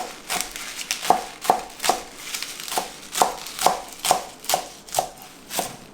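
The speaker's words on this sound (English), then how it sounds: "we're going to chop this fairly finely like that into nice thin ribbons" A knife chopping a large bunch of kale finely into thin ribbons on a cutting board, a dozen or so crisp, evenly paced cuts close up with no talking.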